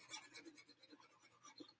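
Marks are erased from a board with quick, faint, rhythmic rubbing strokes, about a dozen short swipes in a row, with no talking.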